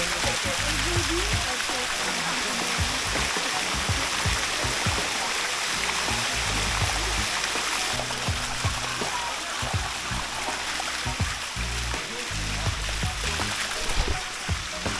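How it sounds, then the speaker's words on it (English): A jungle waterfall in Thailand flows in a steady, broad rush of splashing water, continuous and fairly loud, with occasional voices mixed in. "up a grippy waterfall in Thailand"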